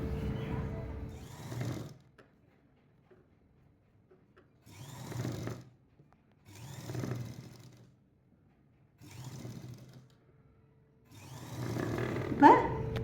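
A sewing machine stitches a blouse seam in five separate runs of a second or two each, with short pauses between them, close and fairly quiet.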